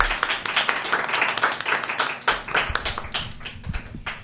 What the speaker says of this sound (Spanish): te pido que nos regales un fuerte aplauso